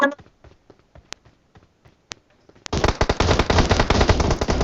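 Automatic gunfire in PUBG Mobile on the Sanhok map: a few sharp isolated shots, then a dense, loud burst of rapid fire, with players talking over it.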